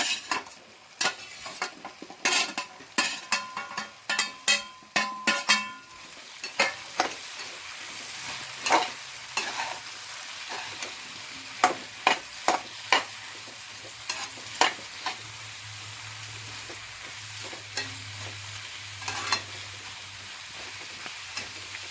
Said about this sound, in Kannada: ಈಗ ಕಟ್ ಮಾಡ್ಕೊಂಡಿರೋ ಅಂಥ ಮಶ್ರೂಮು ಎಣ್ಣೆಯಲ್ಲಿ 5 ನಿಮಿಷದ ಕಾಲ ಫ್ರೈ ಮಾಡ್ಕೋಬೇಕು